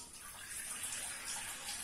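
Water poured steadily into soaked lentils for chole ki daal, a continuous close splashing gush with no talk.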